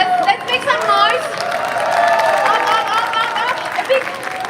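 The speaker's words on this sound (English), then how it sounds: "A big applause. Let's make some noise." Audience at TurkFest applauding and cheering, a continuous wash of clapping with whoops and crowd noise, while a voice talks over it.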